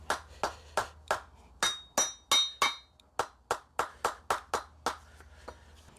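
A hammer drives an engine mount into place on a 2004–2009 Mazda 3. About fifteen sharp metallic blows land in a steady rhythm, close and clear with no talking.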